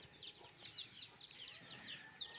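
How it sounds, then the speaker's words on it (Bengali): Chickens calling in a village, a string of short, high, repeated calls coming in quick bursts, fairly faint over a quiet outdoor background. "মুরগিতে ডাকতেছে"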